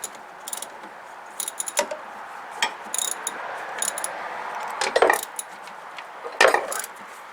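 A hand ratchet tightens the 15 mm bolts on the steering coupler of a 1993 Chevy K1500, giving short bursts of sharp clicking close by, separated by brief pauses.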